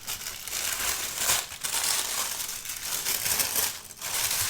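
Bright green tissue paper crinkles and rustles in continuous loud, close bursts as an unboxing goes on, with brief dips between handfuls.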